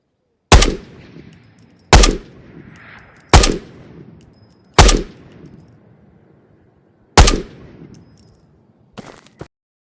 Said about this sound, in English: Now again, firing our SCAR.